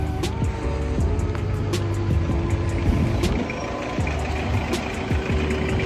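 Cars moving along a road beside a supermarket, a steady loud engine rumble and tire noise with vehicles passing close by one after another, no talk.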